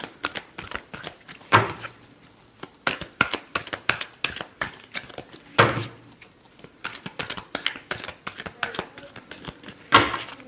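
Tarot cards are shuffled by hand again and again, a steady run of crisp riffling flutters and soft slaps, close and unaccompanied by speech.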